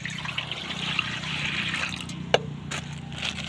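One litre of water pours steadily in a continuous splashing stream, with a sharp clink partway through and a few small knocks near the end.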